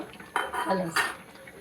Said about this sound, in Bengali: একটু নাড়িয়ে নিচ্ছে, কত সুন্দর কালার এসছে।